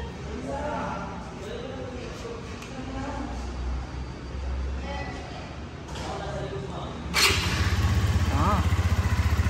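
A new CF Moto 150 NK motorcycle engine runs close by under people talking, then revs louder and settles into a steady, rumbling idle near the end.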